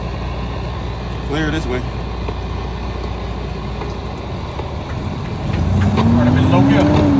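A semi truck's big-rig engine pulling in low gear, a loud steady diesel rumble from inside the cab that swells into a rising, higher-revving drone near the end, with a short spoken phrase over it.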